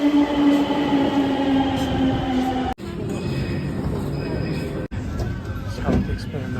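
A Delhi Metro train rumbles along at speed, emerging from underground, carrying a steady interior drone with tonal motor whine and brief pressure dropouts, heard from inside the carriage.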